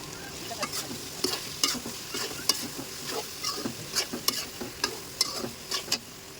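Close sizzling in a pan with repeated scraping stirs of a dried-fish curry at an uneven rhythm, each stroke a short crisp swish over the steady frying hiss.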